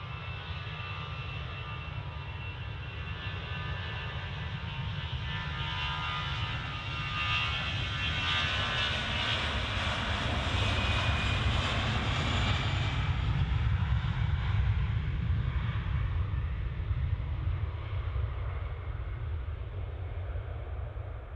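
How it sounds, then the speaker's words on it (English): An EasyJet Airbus A320 jet takes off from Manchester bound for Geneva, its engines roaring steadily and swelling as it passes close, then easing slightly, loud and unbroken with no talk. "EasyJet A320 off to Geneva."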